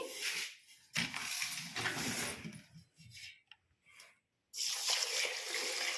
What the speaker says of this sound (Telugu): ఇలా బాగా 10 సార్లు కడిగేసి నీళ్లు పోసేసి